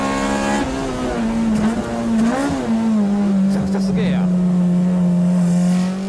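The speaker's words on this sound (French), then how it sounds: "Écoutez ces régimes moteurs," A race car engine on the Tsukuba circuit holds a loud, steady high-revving note close by, with pitch rising and dipping through gear changes and brief tire squeal, no talk over it.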